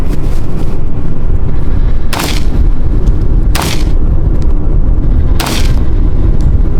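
Three sharp, loud reports from a 1911 pistol fired at a zombie target shoot with steel targets, spaced a second or two apart over a constant rushing wind-like background.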